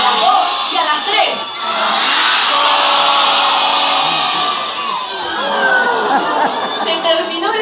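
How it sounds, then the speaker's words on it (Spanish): A crowd of children at a circus show shouts together at full volume on a count of three, producing one long, sustained roar of high voices that swells and dips slightly before easing off. "Vamos a gritar bien fuerte."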